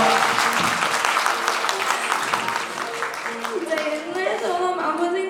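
Guests at a hotel wedding ceremony in a Seoul banquet hall break into dense, sustained applause that fills the room, with a voice rising faintly beneath it toward the end.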